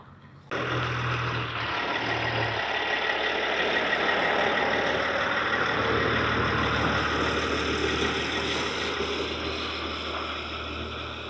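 A diesel truck engine rumbles steadily as the truck pulls away and loops around onto the road, starting abruptly and holding a loud, constant drone that eases slightly toward the end.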